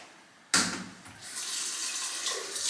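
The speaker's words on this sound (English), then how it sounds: "And now I'm going to wash my face with the Clinique face wash." A tap suddenly turns on, and water gushes into a sink during face washing with a Clinique face wash, a close, steady splashing rush that carries on, shifting slightly as hands move under the stream.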